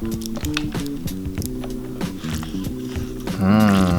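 Instant ramen noodles are stirred in a bowl, producing wet squishy slurps and soft clacks in an irregular rhythm, close up, before a short voice sound at the end.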